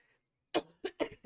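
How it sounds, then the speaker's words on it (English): A single person coughs in a quiet room during a House Flipper gaming session, a short sharp burst followed by two more coughing bursts, close and loud against near silence. "I didn't mean to cough."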